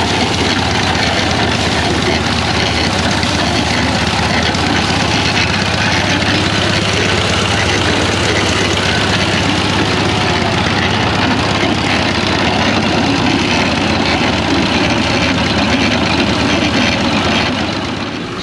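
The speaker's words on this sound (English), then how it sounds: "We got the old rusted steam engine pulling a couple drag pan scrapers." An old rusted steam engine pulling a couple of drag pan scrapers runs at steady power, a loud, dense, continuous chugging drone heard up close for the whole stretch.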